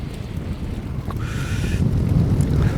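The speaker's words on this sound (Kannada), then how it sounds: "ಆ ಲೆವೆಲ್ಗಿದೆ ಗಾಳಿ ಇವತ್ತು." Strong wind gusts buffet the microphone aboard a deep-sea fishing boat, a constant low roar with some water wash and a brief whistling tone partway through, with no speech.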